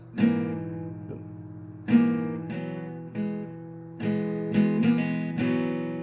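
Acoustic guitar strummed several times, each chord ringing out before a quick note change from a lifted finger, played alone at a relaxed pace.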